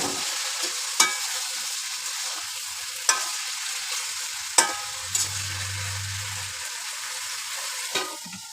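Moringa drumsticks fry in a pan for a red lentil curry, with a quiet steady sizzle broken by a few sharp spoon clinks against the metal, no voices.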